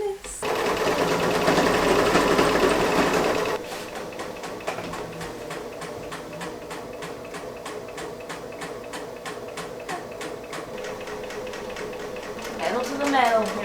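A serger stitching a dress: a dense, fast mechanical whir for a few seconds, then rapid ticking runs of stitching continuing close by, with people talking and exclaiming over it.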